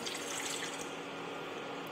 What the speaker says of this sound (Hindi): उसमें 1/2 गिलास पानी डालूंगी